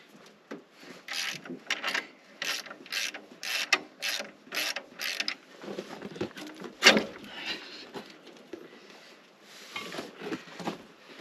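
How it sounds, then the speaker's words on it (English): Old belts are worked off the pulleys of a 1992 Ford 7.3 IDI diesel engine, giving a close, rapid series of ratcheting clicks followed by irregular metallic clunks and rattles. "Okay, we'll start with first taking off all the old belts."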